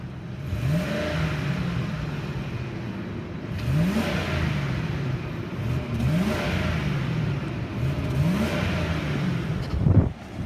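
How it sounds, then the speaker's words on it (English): A 2005 Ford Expedition Limited SUV engine idles steadily nearby, a low rumbling hum with a faint rhythmic flutter, ending in a brief clunk. "Let's listen to the engine."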